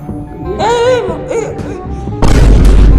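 Gunfire in the horror video game Granny Chapter 2 lands as a loud, close burst near the end. It follows a stretch of Tamil chatter and game sounds.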